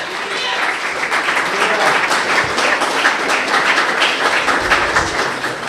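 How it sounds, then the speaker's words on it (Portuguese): A Portuguese-speaking church congregation at a night vigil applauds in a dense, continuous burst of clapping, loud and close, holding steady throughout with voices mixed faintly underneath. "Quantos podem aplaudir ao Senhor Jesus?"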